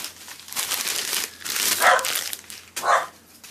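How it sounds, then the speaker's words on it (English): A dog barks a few times indoors, two sharp barks standing out over rustling and crinkling of packaging nearby. "Dog is going nuts."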